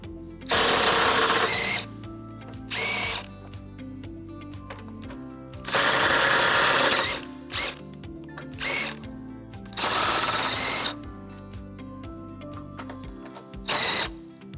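Power tool spinning off 17mm nuts and bolts under a 2019-2025 Subaru Ascent during a trailer hitch installation, several loud whirring bursts of one to two seconds with short zips between, close and separated by quiet gaps.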